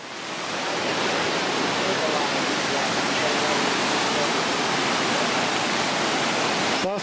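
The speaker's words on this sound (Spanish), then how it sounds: "Bastante crecido el río y se ve bastante lodoso." A swollen, muddy river rushes past in a steady broadband roar, loud and continuous from start to finish with no pauses.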